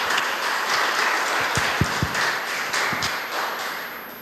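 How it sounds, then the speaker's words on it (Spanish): Audience applause for a classmate at a brand identity conference, a broad steady wash of clapping with a few sharper near claps standing out, continuing without any talk. "Un aplauso, por favor, para su compañero"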